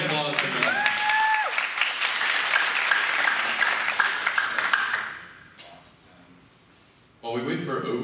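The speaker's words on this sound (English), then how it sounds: "Everybody give a big round of applause to them." A live morning radio show audience breaks into loud, sustained applause and cheering, fading out after about five seconds before a voice resumes talking.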